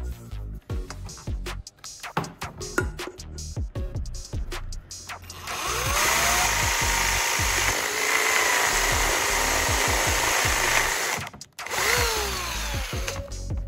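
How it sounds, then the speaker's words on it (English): A power drill bores a hole through the bottom of a metal can: a stretch of sharp knocks and clatter, then a loud sustained whine and grinding for several seconds that stops abruptly and briefly restarts. "for the can, I'm going to drill a hole right in the center of the bottom."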